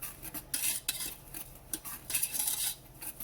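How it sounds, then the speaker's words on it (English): Sugar and salt are whisked in a saucepan for fudge, giving close, irregular metallic scrapes and clinks in uneven bursts, with no talking. "So here's my whisk, and I'm just gonna mix this up together"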